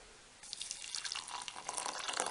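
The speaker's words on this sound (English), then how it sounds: "hot water out of the good old kettle" Hot water from an old kettle pours steadily into a container, starting after a brief quiet moment and running as a continuous close splashing stream with no talk.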